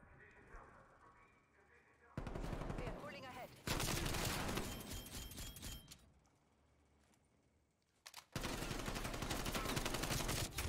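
Bursts of gunfire in Black Ops Cold War snap out loud in dense clusters, broken by quieter gaps, with a person talking between shots.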